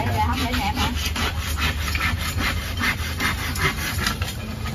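Handsaw cutting through wood to make trim strips for a kitchen build, close and rhythmic with fast back-and-forth rasping strokes continuing steadily.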